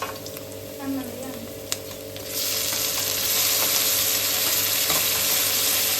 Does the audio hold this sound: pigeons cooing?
no